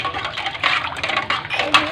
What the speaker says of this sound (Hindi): अभी इसको अच्छी तरीके से मिक्स करेंगे।